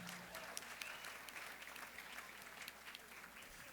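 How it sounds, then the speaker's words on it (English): Audience applause at the Miss Cayman Universe 2018 pageant, a steady sustained clapping from a crowd heard at moderate distance throughout. "Round of applause for them, please."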